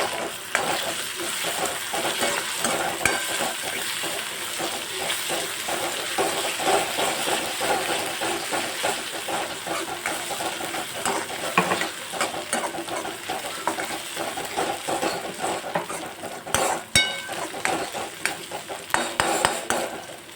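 Ginger, chilli and garlic paste sizzles steadily in a pan for a Rajasthani besan gatta curry, with constant frying hiss and frequent scraping, clinking stirring strokes throughout.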